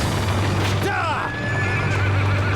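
A horse whinnies inside a palace, a rising and falling neigh in the middle of the clip, with hoof clip-clop and a low rumble beneath and voices faintly around it.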